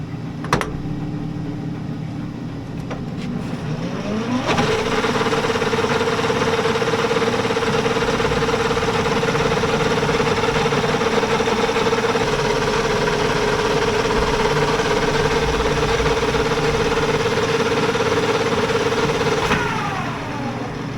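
A metal lathe takes a light fine-feed cleanup cut on a brass fitting, a steady whining tone with a gritty, chattery edge running continuously for most of the span after the spindle speeds up, then stopping near the end.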